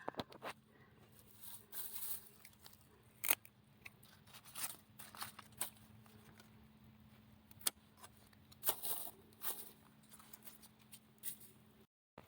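Tomato plant stems being cut during garden pruning, heard as a few sharp, scattered snips and clicks over a faint steady hum, with no talking.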